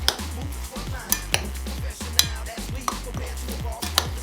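Hulk food being mixed by hand, a utensil scraping and clinking against a bowl in irregular strokes with sharp metallic taps, close and fairly loud, with no talking.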